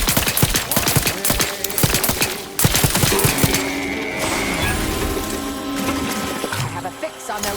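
Video-game gunfire in The Outer Worlds 2 comes as rapid, loud, close bursts of crackling shots, then thins into scattered rattling while a voice speaks over it.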